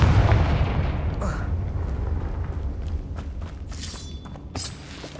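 Repeated explosive blasts from the Confringo fire spell in Hogwarts Legacy, a booming burst near the start and sharper cracks later, over a rumbling low background with a voice heard briefly.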